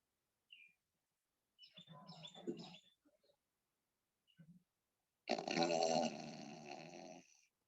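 Ujjayi pranayama breathing with a constricted throat makes a long, raspy, snore-like rush, heard after a few quieter breaths and short pauses.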